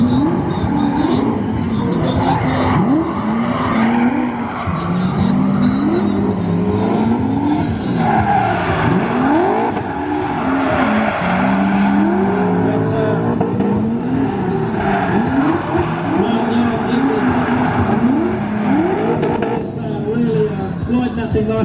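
Drag race cars launch side by side at the Fueltopia Barrel Sprint at Wembley, with loud, continuous engine roar and rising, sweeping revs, plus tyre screech, running throughout under a commentator's voice.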